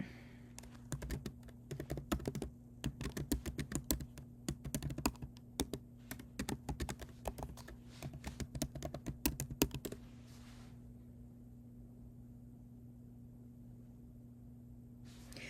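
Computer keyboard typing, close and quiet, with bursts of rapid key clicks and brief pauses for about ten seconds before a steady low hum remains alone.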